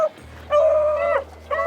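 Rabbit-hunting hounds give high, wavering yips and bays in two separate bursts with a short gap between them, fairly clear and close, with no talk.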